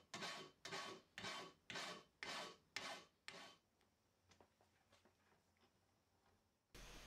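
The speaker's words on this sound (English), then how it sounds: "Then I move on to the vise and some good old manual work with the files." A hand file rasps back and forth across a metal workpiece clamped in a vise in a machine shop, seven even close strokes in a steady rhythm, then quieter scattered taps and a short clunk at the end.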